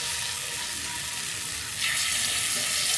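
Freshly grated sharp cheddar stirred into beer cheese on a hot griddle for cheesesteaks, giving a steady, close frying sizzle that swells slightly louder partway through, with no voices.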